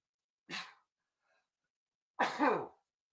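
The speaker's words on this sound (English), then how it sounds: "I think I have to sneeze" A short intake of breath, a pause, then a single close, sharp allergy sneeze bursting out loudly in an otherwise quiet room.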